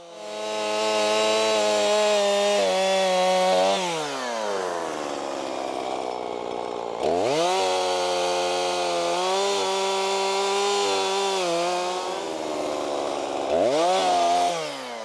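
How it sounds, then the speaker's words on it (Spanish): A chainsaw cuts wood for a homemade ladder used in olive picking. The engine runs loud and steady at close range, with its pitch dropping and climbing back several times as the blade bites. No one speaks. "pues lo vamos a tener que hacer con una motosierra"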